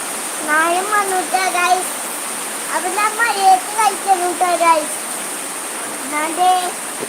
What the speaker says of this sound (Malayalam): മഴയുണ്ട് മഴ ദേ ഉഷാറായിട്ട് പെയ്തുകൊണ്ടിരിക്കുകയാണ്